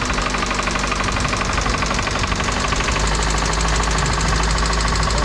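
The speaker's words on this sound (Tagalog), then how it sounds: "Atok ang makina. Kumayod yung bearing nito sa" A car engine with a worn bearing runs close and loud, its steady, rough knocking pounding on without a break.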